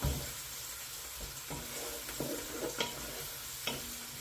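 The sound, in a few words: stirring spices and seeds frying with onions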